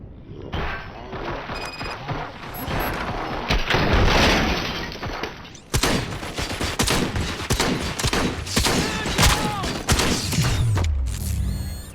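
Sustained gunfire in the shooter Robocop: Rogue City, rapid loud bursts of shots mixed with shattering glass and breaking debris, continuing in dense volleys through the whole stretch without talk.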